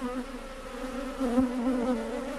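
A honeybee swarm buzzes together while entering a hive on Réunion Island, a steady, close drone that swells slightly midway.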